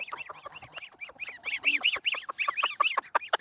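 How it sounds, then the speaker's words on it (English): A mother chicken clucks rapidly and excitedly over treats for her chicks, a close, dense string of short rising calls in steady rhythm with no talk. "Listen to her. She's clucking like crazy."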